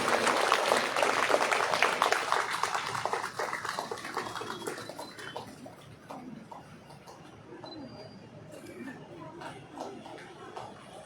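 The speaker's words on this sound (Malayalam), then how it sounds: "എല്ലാവരും ഒന്ന് കൈയടിച്ച് നമ്മുടെ ഇതിനൊരു മാറ്റുകൂട്ടണമെന്ന് അറിയിക്കുന്നു." Applause from an audience at a Bhagavata Saptaha Yajna ceremony at Thrikkalanjoor Sri Mahadevar temple rises loudly at first, then fades into scattered clapping and murmuring crowd chatter.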